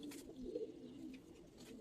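Old-breed Giribaz pigeons coo softly in a loft, a few low, throaty calls close by and faint against quiet background.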